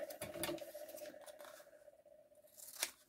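Scissors cutting through paper packaging, close crisp snips and a rustle of paper over a faint steady hum, with one sharp cut near the end.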